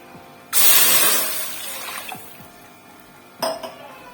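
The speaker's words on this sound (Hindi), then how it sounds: "अब इसके अंदर मैं तकरीबन 1 गिलास पानी का ऐड करूंगी" About a glass of water poured into a hot kadhai: a loud rushing splash and hiss that swells, trails off over a couple of seconds, then a short second splash with a faint metallic clink.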